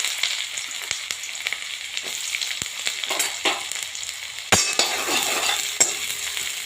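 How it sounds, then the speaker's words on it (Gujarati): Onions fry in hot ghee with mustard seeds, a dense continuous sizzle up close, broken by occasional clanks and scrapes of a spoon stirring the pan. "ડુંગળી શેકાઈ જવા દેશું"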